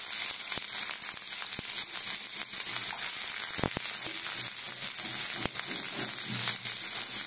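Capsicum frying in a pan, a loud, continuous close sizzle with a few sharp clicks and scrapes of a utensil scattered through it, no talking.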